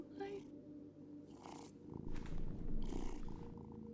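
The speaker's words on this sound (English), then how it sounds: "Petting the cat." A cat purrs steadily in Life is Strange: Double Exposure as it is petted, a soft low rumbling that continues under a person talking.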